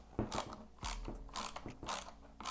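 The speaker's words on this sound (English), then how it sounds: "Now we're just getting this screw tightened back up for the paddle shifters." A T20 torx screw being tightened on a car steering wheel's paddle shifters, heard as close, repeated ratcheting clicks and grinding mechanical turns in short bursts with brief gaps.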